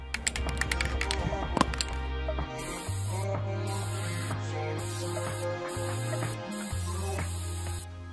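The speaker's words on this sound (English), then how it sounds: "now we're just going to spray some varnish to seal everything." Varnish is sprayed to seal customized AirPods in short hissing bursts that start and stop repeatedly, preceded by some tapping and handling clicks, with music playing throughout.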